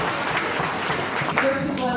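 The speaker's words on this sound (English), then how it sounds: "Give them a round of applause," Applause from a crowd at a community round-up event: a dense, steady wash of clapping that fills the room for a couple of seconds, with voices mixed in.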